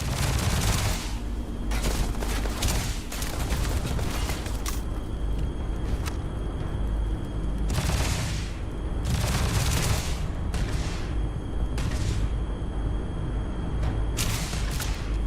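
Gunfire in the sci-fi video game Starfield, repeated loud bursts of shots and booming blasts arriving in clusters over a continuous low rumble, with no talking.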